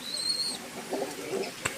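A black Chinese pigeon coos in short, soft low phrases close by, with a faint high whistle-like tone early on and a brief click near the end.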